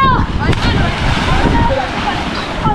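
Sea water at the Mombasa old town waterfront in Kenya sloshes and splashes steadily as children jump in, a loud, continuous surf wash with wind buffeting the microphone.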